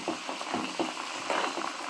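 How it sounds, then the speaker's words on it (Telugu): Oil boiling and bubbling in a pan with gunta garigalu leaves added, a steady busy sizzle with soft rhythmic popping bursts, fairly close and continuous. "మనకు చూడండి మనకి ఎలా మరుగుతుందో నూనె అనేది"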